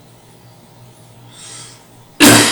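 A single sharp, loud cough near the end, preceded by quiet room noise and a soft breath.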